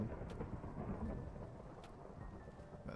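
Thunderstorm in the Minecraft video game, with a steady wash of rain and low rumbling thunder rolling underneath, fairly quiet and continuous without any voices.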